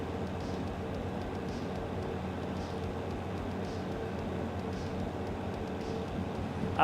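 A long freight train of 34 cars, about 600 meters, rolling along in the Derail Valley railway simulator game, a steady low rumble of wheels and wagons that stays even throughout, with no talk.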